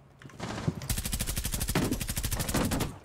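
Rapid automatic gunfire from Rainbow Six Siege, a sustained, loud burst of evenly spaced shots starting just under a second in and running to the end, with a few scattered shots before it.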